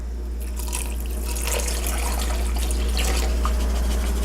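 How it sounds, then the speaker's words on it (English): Two cups of liquid are poured into a container while making BBQ sauce, a steady splashing trickle over a low constant hum, close and moderately loud with no talking. "So we'll go ahead and get that poured in here."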